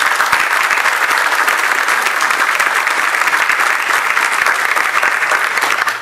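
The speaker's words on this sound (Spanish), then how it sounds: "Quisiera que recibamos con un cordial aplauso a nuestros amigos" Loud, close audience applause at a conference on coastal and marine zone management, dense continuous clapping filling the whole stretch without a break.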